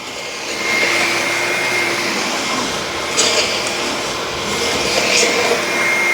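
Bissell FurGuard 4039 and Dyson V9 vacuum cleaners run loud and close in a steady whining roar, with brief rattling bursts as debris is picked up partway through.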